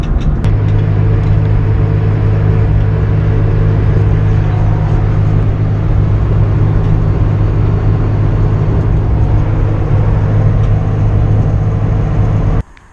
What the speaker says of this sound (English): when you get back in a car like this, you can hear everything and feel everything